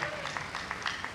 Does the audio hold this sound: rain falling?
no